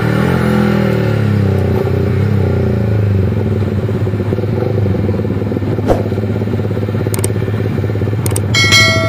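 Suzuki GSX R150 motorcycle ridden on the road in Bogor, a steady loud engine drone close up, continuous throughout with a brief clatter near the end.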